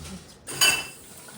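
Dishes, pots and cutlery clink in a home kitchen during washing up, in one brief, fairly close clatter against quiet background.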